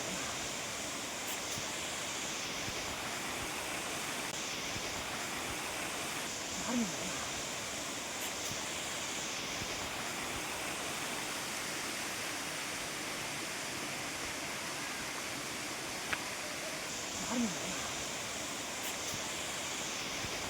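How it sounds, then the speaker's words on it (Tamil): Chinna Suruli Falls near Theni, a waterfall heard as a steady, fairly faint broadband rush of falling water, constant and unbroken throughout with no clear talk. "அடுத்ததாக வாங்க அருவியை போய் பார்ப்போம்."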